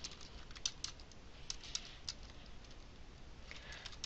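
Fingers tap quietly on a computer keyboard, a quick uneven run of soft clicks over a faint steady hiss with nobody talking.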